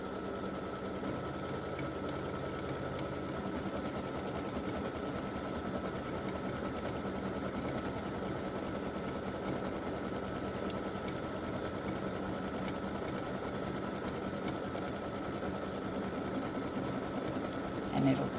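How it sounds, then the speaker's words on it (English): An embroidery sewing machine satin-stitches over the raw edges of a Christmas gnome appliqué, a fast, even mechanical chatter running steadily throughout, close and uninterrupted. "I'm going to stitch my satin stitching to cover up my raw edges"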